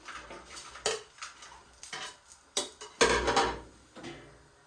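Fries are spread around a pan of hot oil with a utensil, giving a series of sharp metallic scrapes and knocks against the pan, irregular and close, with one louder clatter near the middle.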